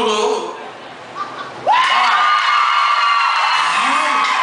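A voice speaks, then a crowd bursts into loud cheering, whooping and shouting that carries on steadily.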